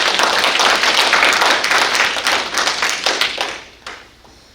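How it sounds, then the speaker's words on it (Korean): Conference audience applauding to welcome a speaker at an international conference, a steady dense wash of clapping from many hands that thins out and fades near the end. "박수로 맞이해 주시면 감사하겠습니다."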